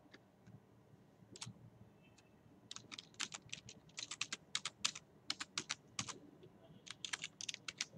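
Typing on a computer keyboard while filling in an online user registration form, heard as quiet scattered keystrokes that build into rapid bursts of close, crisp clicks, with no talking.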